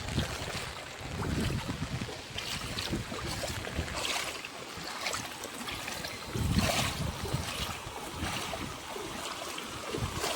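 A swollen river after heavy rain rushes past in a steady, loud roar of flowing water with wind, continuous for the whole stretch and with no voices.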